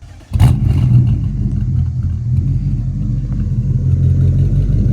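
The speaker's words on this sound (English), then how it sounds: "Get a little rev going." A Chevrolet Camaro SS with a 6.2-liter V8 and aftermarket exhaust barks into a rev, then settles into a loud, steady, deep rumble close by, with no talking.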